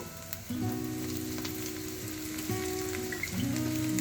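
Chopped potatoes and egg fry in a pan with a steady, close crackling sizzle that runs without a break. Faint clinks of a utensil come and go, and no one speaks.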